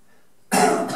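A single harsh cough bursts out after half a second of near silence, loud and close, trailing off with a rough throaty tail.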